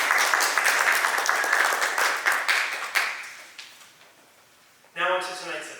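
A gathered audience at a catalogue release event gives a round of applause for Toby and Molly, dense clapping that gradually fades over several seconds before a person begins speaking.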